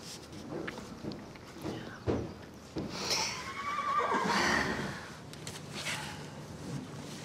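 A horse neighs in a loud, rising and falling whinny mid-clip, surrounded by hoof clops, shuffling steps and stable movement at close range, with no talking.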